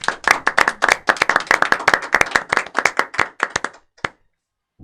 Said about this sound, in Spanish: cerramos con un aplauso para ellos y el resto de sus compañeros.